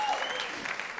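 Audience applause at a Just pour rire comedy show, a dense wash of clapping from a crowd that runs through the whole brief moment.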